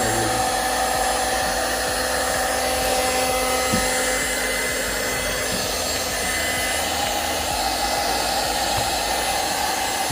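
A low-cost hot air gun blows hot air in a continuous loud whooshing hum, steady and close throughout, with no talk.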